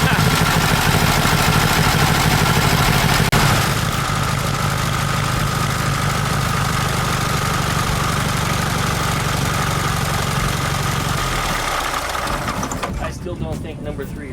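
A VW Super Beetle Volksrod engine idles roughly with a cylinder misfiring, a loud continuous drone that shifts in tone partway through and fades toward the end, with someone talking over it.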